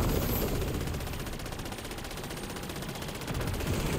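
Rapid automatic gunfire in a Call of Duty Zombies match, dense sustained bursts of shots filling the whole stretch at steady loudness, with no talk over it.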